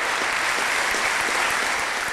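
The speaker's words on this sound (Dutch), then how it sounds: "Applaus!" Applause fills the room at an award ceremony for a sustainability-themed event, a dense, steady wash of many clapping hands sustained throughout at close, even loudness.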